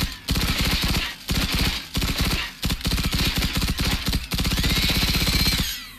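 Rapid automatic gunfire in the video game Generation Zero, fired at a shield generator in loud sustained bursts separated by brief pauses, with bright ringing tail.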